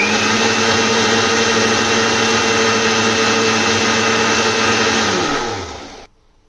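A blender whirs loudly and steadily for several seconds while blending thandai with added water, then winds down and stops.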